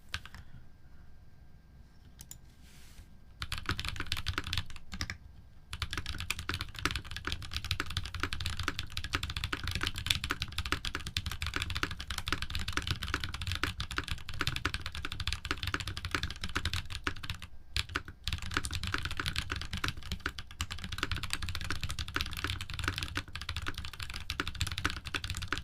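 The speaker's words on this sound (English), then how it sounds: "Do a little more typing" Continuous rapid typing on a computer keyboard, dense key clicks running for about twenty seconds after a quiet start, close and steady with brief pauses.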